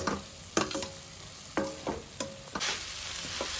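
A sweet of flattened rice, coconut and jaggery cooks in a pan on the stove, a spoon scraping and stirring in uneven strokes over a soft sizzle, close and clear with no talking.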